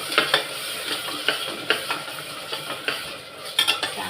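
Gravy is stirred and mixed in a pan with a spoon, giving repeated scraping clinks at an irregular pace over a low sizzle, close and with no talk.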